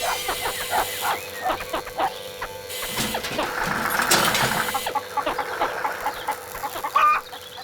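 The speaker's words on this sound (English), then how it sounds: "Dorothy wondered why the chickens were making such a noise." A flock of farmyard chickens clucking noisily at Thompson Ground in a cartoon, rapid overlapping squawks and clucks layered with barking and a low engine hum, busy and fairly close.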